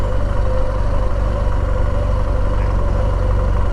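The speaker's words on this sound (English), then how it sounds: "Love the sound of the big old diesels in those trains." Big diesel train locomotive idling close by, a loud, steady low rumble with a droning hum that holds constant throughout, no voices.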